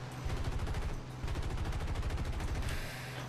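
Rapid, continuous automatic cannon fire from the Douglas A-20G-30 Havoc attack bomber in War Thunder, a dense loud burst of shots lasting throughout with a brief dip in the middle.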